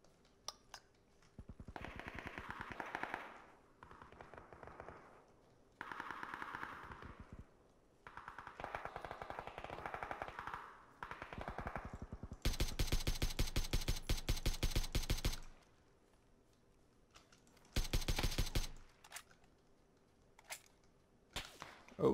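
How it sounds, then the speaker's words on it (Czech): Bursts of rapid automatic gunfire rattle from below in a shooter video game during a duo match, with a long sustained volley and a shorter later burst, interspersed with quieter in-game sounds and sporadic single shots. "už po mě střílí ze spoda"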